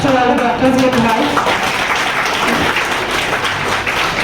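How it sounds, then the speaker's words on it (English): Audience applause honoring doctors at an International Doctor Day celebration, a dense, loud wash of clapping sustained throughout with voices mixed in. "So a huge round of applause to all the doctors here tonight."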